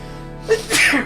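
A single sharp sneeze bursts out near the end of a quiet stretch, preceded by a short intake of breath, close and fairly loud during a tabletop role-playing game session.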